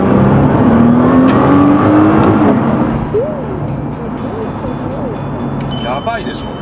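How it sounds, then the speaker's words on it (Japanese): A Nissan GT-R accelerates hard, its engine roaring loud and close from inside the cabin, rising in pitch through a gear change before settling into a strong steady drone. "ちょっと加速してみるよ"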